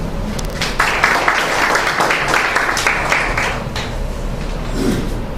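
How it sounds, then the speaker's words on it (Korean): Applause from a seminar audience at a Korean forum on returning to rural farming life, a loud, continuous wash of clapping that swells and then tapers slightly. "박수로 진행하겠습니다"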